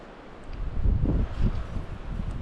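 Breezy wind buffets the open air on a forested hillside, a low rumbling gusting that swells and eases for a couple of seconds with no voices.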